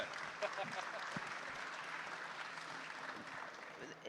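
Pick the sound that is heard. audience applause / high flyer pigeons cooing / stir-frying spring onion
audience applause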